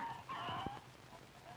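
Chickens cluck and squawk in a brief farmyard sound effect, a few clucks and a crow-like call rising over quiet background noise.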